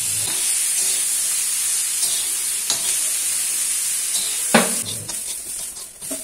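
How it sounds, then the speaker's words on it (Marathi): Onions roasting in a pan for crab masala give a steady, close frying hiss throughout, with a few sharp stirring scrapes and clatters, no voices. "आता आपण कांदा भाजून घेऊ।"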